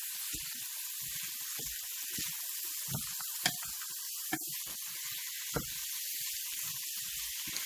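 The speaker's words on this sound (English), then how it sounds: "just want that to start to saute, the onions to start becoming translucent, the broccoli, you know, to start getting tender" Onions and broccoli cook in a pan with a faint, steady sizzling hiss, broken by a few soft clinks and taps from the cookware.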